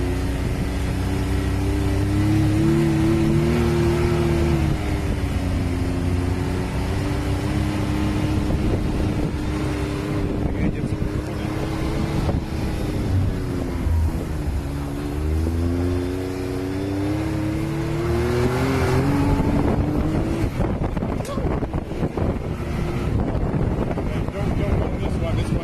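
Can-Am X3 Turbo RR side-by-side, a 2020 model, driven on a track, its engine droning steadily with rising and falling revs under heavy wind buffeting, while someone talks over it.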